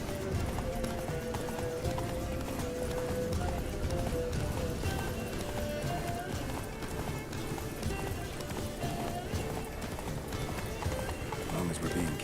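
Roach, Geralt's horse in The Witcher 3: Blood and Wine, gallops with fast, dense hoofbeats and occasional whinnies. Loud game music and action sounds play over the galloping, and voices talk throughout.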